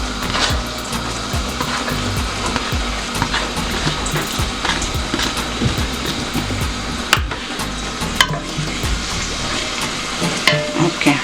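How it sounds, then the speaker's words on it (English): Onions dropped into melting hot oil fry loudly and close, a dense crackling sizzle with rough scraping and occasional sharp knocks throughout. "while the oil is melting, we drop in the onions"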